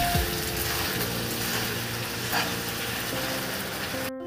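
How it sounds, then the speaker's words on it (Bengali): Ginger paste frying in a pan and being stirred, a continuous even sizzle close up for several seconds with faint scraping, cut off abruptly at the end, no talk. "1 চামচ আদা বাটা দিয়ে ভালো করে নাড়াচাড়া করে নেব"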